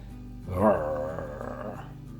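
A voice imitates a dog's growl while reading a children's picture book aloud, a rough, rumbling snarl that swells quickly and then holds for over a second before fading out.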